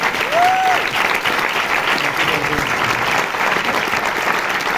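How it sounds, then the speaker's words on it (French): Steady, dense applause from a cinema audience at a film screening, loud and sustained throughout with a faint whistle near the start and no speech over it. "Vous pouvez applaudir très fort Noah Baumbach."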